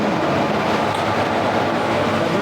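Triveni Express hauled by a WAP4 electric locomotive passing close by, heard as a steady, loud broadband rumble of rolling wheels with no breaks.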